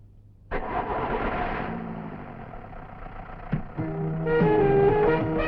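A vehicle engine cranks and catches abruptly, then settles into a steady idle with a brief clunk partway through before picking up again slightly louder; the sound is close and runs alone, with no talking.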